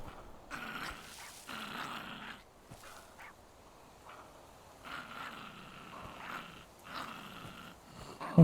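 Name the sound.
dog growling in a video game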